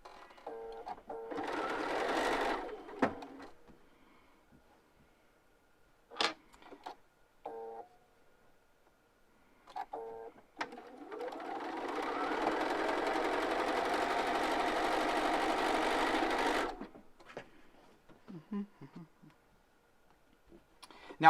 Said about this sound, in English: I will line these up and sew that 1/4 inch.